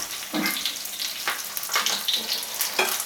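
Butter and olive oil sizzle steadily in a hot pan, a dense crackling hiss with brief sharper spatters, close and fairly loud, with no voices.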